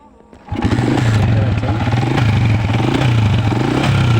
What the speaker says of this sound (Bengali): ইঞ্জিনের সাউন্ডটা আমি আপনাদেরকে দেখাই একবার।